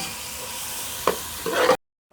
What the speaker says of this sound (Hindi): प्याज को 2 मिनट तक हम फ्राई करेंगे।